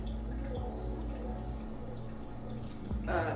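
Tap water runs steadily into a sink as charcoal face cleanser is rinsed off the skin, a soft continuous wash with a short louder splash near the end.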